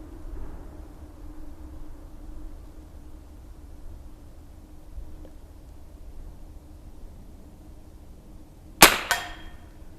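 One sharp crack from a Henry Frontier long-barrel .22 rifle near the end, followed by a brief metallic ring, after a long stretch of quiet outdoor hum.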